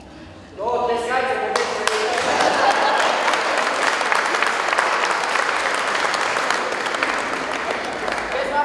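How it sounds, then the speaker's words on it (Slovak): An audience at a Slovak high school graduation ceremony breaks into loud, sustained applause that starts abruptly after a few chiming notes and keeps going evenly, gradually tapering slightly toward the end. "No, tleskajte."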